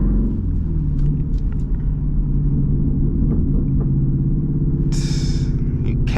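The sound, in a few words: straight-piped SRT Jeep exhaust popping and rumbling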